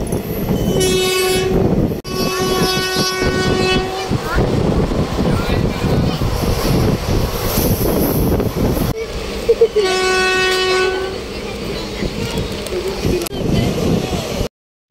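Train running between Haridwar and Haldwani, heard from inside the carriage as a steady loud rumble, with two sustained horn blasts, one early and one later, and people talking over the noise.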